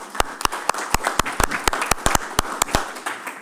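Applause at a finance committee meeting, a small group clapping in sharp, distinct, fairly regular claps that sound close and crisp, with a murmur of background room noise.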